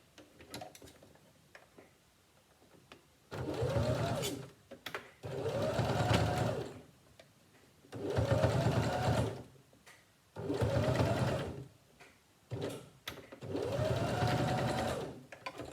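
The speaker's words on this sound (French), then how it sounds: "Du coup, on va piquer tout le long jusqu'ici" A sewing machine stitches along a fabric face mask in five distinct bursts of rapid mechanical whirring, each lasting one to two seconds, separated by quiet pauses, close and clear with no talking.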